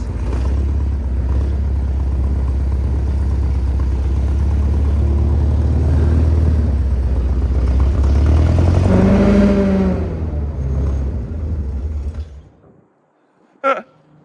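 A 1961 VW Beetle barn find runs in reverse with a loud, rough, rumbling idle that rises and wavers, then cuts out abruptly, followed by silence and a brief sharp clatter.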